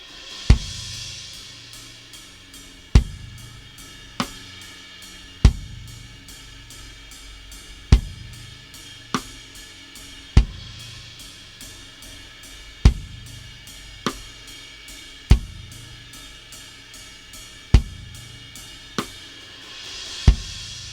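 Drum kit groove for a worship song: steady eighth notes on the ride cymbal, a kick drum on the first beat of each measure and a rim shot on beat four every other measure, played alone and close.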